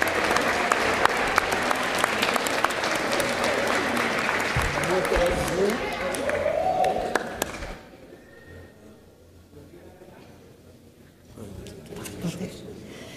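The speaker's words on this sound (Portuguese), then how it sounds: "Uma salva de palmas para todos os nossos e nossas homenageados e homenageadas." Loud sustained applause from a crowd at a Brazilian Chamber of Deputies event fills the room for several seconds, then fades out, leaving quieter room noise and some murmuring.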